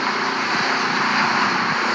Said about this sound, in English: That is the helicopter right there.